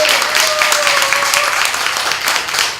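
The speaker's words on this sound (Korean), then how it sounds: "우리 박수 한번 쳐주세요." Audience applause at a Korean talk event as the next presenter is introduced, a dense steady wash of many clapping hands filling the room throughout, fairly loud and continuous.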